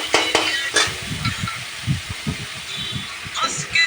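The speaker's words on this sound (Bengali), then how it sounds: "কত সুন্দরভাবে করে নিচ্ছি আমি ভাজাটা" Bata fish pieces coated with salt and turmeric fry in a pan, giving a steady close sizzle with occasional stirring knocks while a person talks over it.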